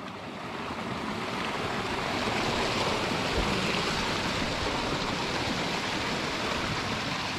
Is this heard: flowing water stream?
yes